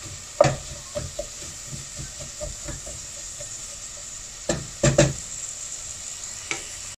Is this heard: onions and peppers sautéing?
yes